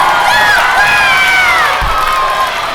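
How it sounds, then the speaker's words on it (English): A school assembly audience of sixth graders cheers and shouts loudly and steadily, many young voices whooping together in a continuous roar with no single speaker standing out. "Let's give them a round of applause."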